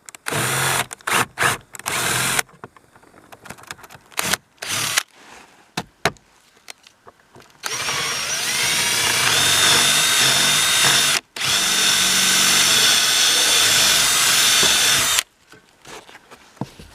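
A power drill drives long 8-inch screws through 4 inches of roofing foam into the framing below: short stuttering trigger bursts, then two long sustained whining runs, close and loud with no talking.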